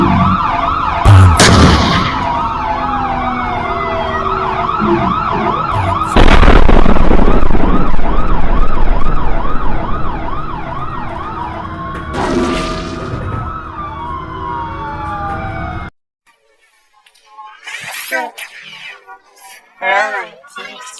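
A wailing police car siren sweeps up and down loudly and steadily, broken by a few sharp bangs, then cuts off into short bursts of chatter near the end.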